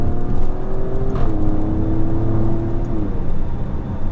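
A widebody Alfa Romeo Stelvio Quadrifoglio cruises along a flowing road, its engine humming steadily at close range with road and tyre roar, and the pitch drops once as the driver shifts before the drone holds steady.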